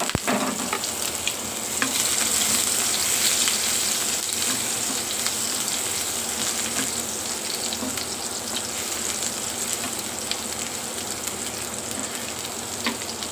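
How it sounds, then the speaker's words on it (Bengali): Crushed garlic and three dried red chillies frying in hot oil for a Bengali pickled aubergine dish, a steady close crackling sizzle with fine spattering pops that holds evenly throughout, no voices. "তেলটা গরম হয়ে গেছে। তো এখন এর ভিতরে দিয়ে দিব থেতলে রাখা রসুনগুলো।"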